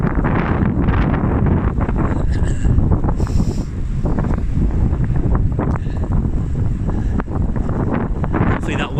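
Strong wind roaring and buffeting a microphone during a road cycling race lap, loud and continuous gusty rumble with no clear talk over it.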